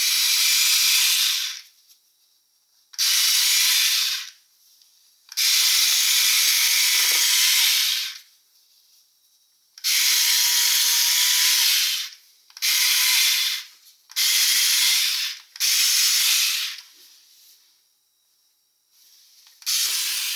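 A Parkside PMSA 4 A1 cordless 4V multi-cutter cuts through thick fabric in repeated bursts, each a loud harsh buzzing hiss lasting one to two seconds, with short silent pauses between them.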